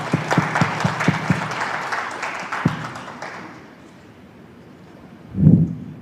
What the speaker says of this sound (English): Hands of applause to our presenter